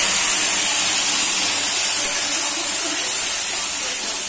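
Fenugreek and masala sizzle in hot oil for a fish curry, a loud, steady, close hiss of frying that runs unbroken throughout.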